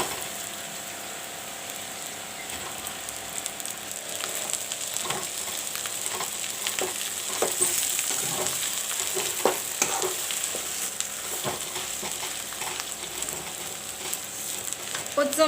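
Onions and mashed potatoes frying in a pan: a soft, steady sizzle broken by scraping and clicking stirring strokes at close range, no one talking.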